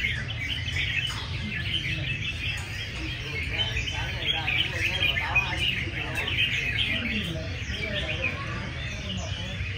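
Red-whiskered bulbuls at a bird market sing in competition, many birds chirping and warbling together in a dense, continuous chorus over a low crowd murmur.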